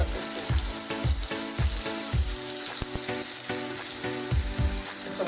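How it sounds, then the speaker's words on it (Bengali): Garlic paste sizzles loudly in hot oil with already fried onions in a pan for an ilish and bean curry. Repeated scraping stir strokes come close and rhythmic over the steady frying, with no voices. "এক চামচ রসুন বাটা দিয়ে দিব।"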